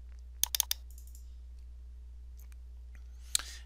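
Computer mouse clicking at a desk, a quick burst of four crisp clicks, then a long quiet pause with faint ticks and one more click near the end.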